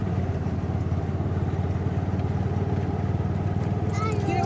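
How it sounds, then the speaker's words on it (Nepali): Motorbikes on a hillside ridge road in Nepal give a steady, fairly close engine drone with a low, even throb that holds throughout, and a faint higher sound enters near the end. "बाइकहरू त आइरहेको"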